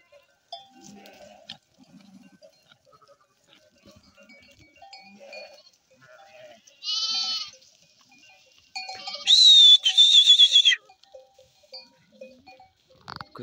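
Kangal-guarded sheep and lambs bleat nearby at a farm pen by a forest edge: a short cry, then a louder, drawn-out bleat, with faint rustling and shuffling between calls.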